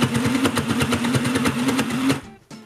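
A Sew Cool no-thread toy sewing machine for kids whirs with a rapid mechanical buzz and steady needle-like pulses for about two seconds, loud and close, then stops abruptly.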